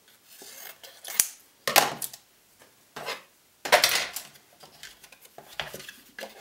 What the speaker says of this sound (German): Und dann stanze ich mir das Ganze aus